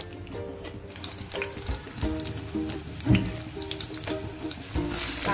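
Green chillies dropped into hot ghee in a frying pan, a steady close sizzle and crackle with brief louder spits, no talking.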